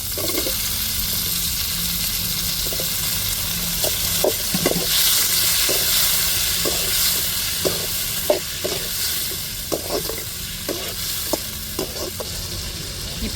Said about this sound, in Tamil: இப்போ தக்காளி மிளகாவும் சேர்த்துருவோம்